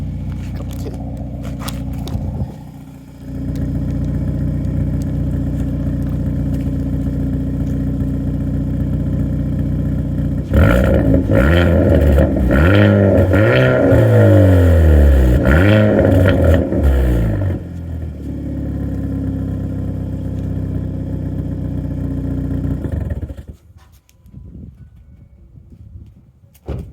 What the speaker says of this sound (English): The exhaust sounds amazing. I'll show you. So we're in neutral,